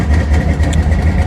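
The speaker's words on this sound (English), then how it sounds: "I think I want to let it idle for a little bit" A carbureted 1985 Chevy El Camino SS idles steadily close by, its low, even rumble holding without revving for the whole moment.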